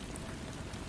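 Steady rain falls and patters continuously on a surface, a dense, even hiss of droplets at moderate volume with no gaps and no voices.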